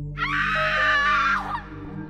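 A single sustained scream in a horror story, loud and rising then falling over about a second and a half, with a steady low hum beneath it and no talk.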